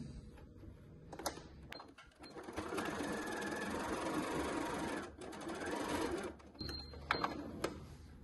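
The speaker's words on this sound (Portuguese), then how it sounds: "terminei então a minha costura" A sewing machine stitches a pocket onto a printed cotton tricoline wallet, a close rapid mechanical chatter in long runs broken by short stops and clicks.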